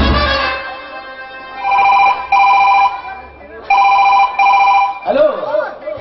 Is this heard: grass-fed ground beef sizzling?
no